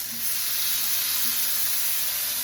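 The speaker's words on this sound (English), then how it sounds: "You want to hear that nice sizzle, just like that." Continuous bright sizzling hiss of steak searing in a hot pan, steady and close, with no talking.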